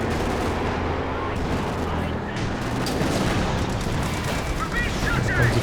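Artillery and gunfire in a Company of Heroes 2 battle, with a howitzer shelling a mortar pit: dense, continuous rumbling booms and crackling shots layered over one another, loud and unbroken throughout.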